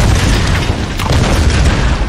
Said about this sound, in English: Explosions solve everything.